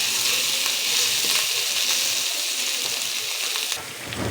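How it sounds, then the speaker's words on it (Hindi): Masala spices for minced-meat qeema fry in hot oil with a loud, continuous sizzle and hiss close by, broken by occasional stirring scrapes, then easing slightly near the end. No one speaks. "3-2 मिनट आप इसको ऐसे ही तलाई करें।"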